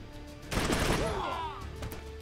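A burst of gunfire rattles in the turn-based video game Troubleshooter, a loud dense volley of shots followed by ringing, whooshing effects that fade, with no talking.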